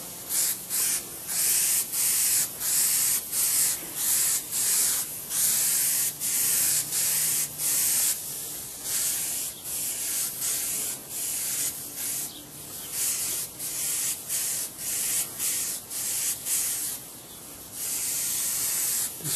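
Spray gun painting the inside of an aircraft canopy on a P-47 model, a steady run of close, loud hissing bursts that start and stop in quick rhythmic pulses, with no talking.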